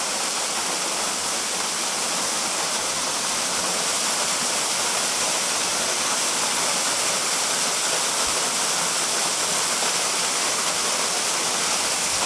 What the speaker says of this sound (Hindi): आ जा भाई वाटरफॉल, सुंदर नजारे हैं तो।